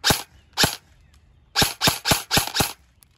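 An airsoft gun fitted with an AceTech Lighter S tracer unit fires outdoors toward grass, giving two close, sharp shots followed by a rapid burst of five.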